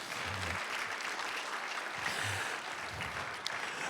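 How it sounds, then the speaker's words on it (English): Audience at a community volunteer awards ceremony gives steady, moderate applause for a humanitarian award recipient, a continuous crackle of clapping heard from within the room for a few seconds. "You can clap."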